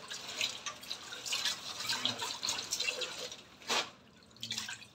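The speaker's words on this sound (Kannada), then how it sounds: "ಚೆನ್ನಾಗಿ ತೊಳಿಬೇಕು ಒಂದು 2-3 ಸರಿನಾದರೂ ಚೆನ್ನಾಗಿ ಈ ಥರ" Something is washed under running water, likely at a sink: a steady splashing rush of tap water with a few louder gushes, fairly close and with no voices.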